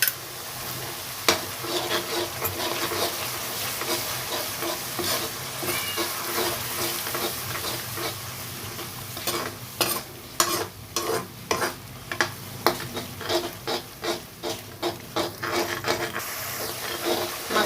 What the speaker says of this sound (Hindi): दही डाल करके इसको ही भूनेंगे